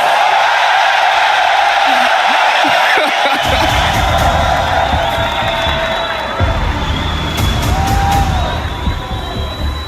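A big esports arena crowd at an ESL One Dota 2 match in Birmingham roars and cheers loudly, with whoops and shouts rising over a sustained wall of noise, while an amplified voice carries over the crowd.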